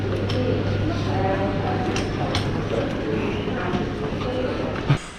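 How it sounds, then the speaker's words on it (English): Train standing at or pulling into platform 11 of a Ukrainian railway station on the Kyiv to Kharkiv route, a steady low rumble and hum filling the platform with faint clatter and a brief knock near the end, under background chatter. "the train's here now on platform 11"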